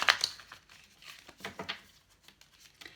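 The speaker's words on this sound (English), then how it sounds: "So I'm going to now shuffle with the Island Time Wellness Love Oracle cards." Oracle cards are shuffled by hand, giving soft, irregular papery riffles and rustles, close and fairly quiet, with no talking over them.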